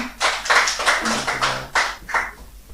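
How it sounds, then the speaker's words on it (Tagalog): A church congregation claps in praise to the Lord in a worship service, a handful of loud, rhythmic clap bursts in quick succession with a faint voice underneath. "Isa pang malakas na palakpak sa Panginoon."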